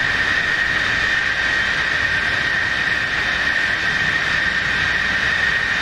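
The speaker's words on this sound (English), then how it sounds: "Lots of very loud Tomcats aboard." Many F-14 Tomcat jets run aboard the USS Forrestal aircraft carrier in the DCS combat flight simulator, a loud continuous roar with a steady high whine that holds at the same level throughout, with no talking.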